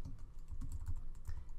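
Typing on a computer keyboard: a quick run of close, soft key clicks in an irregular rhythm, alone and with no talk.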